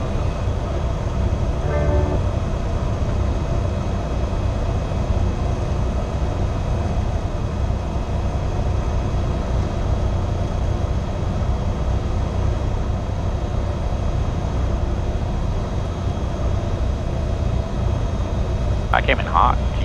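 A small plane's engine at full idle throttle during a night flight over Nashville gives a steady, loud, continuous drone that holds the same level throughout, with brief tonal chirps near the start and end.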